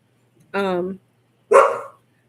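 Dogs bark twice in a quiet room, a drawn-out yelp followed a second later by a sharper, noisier bark, both close and clear with silence between.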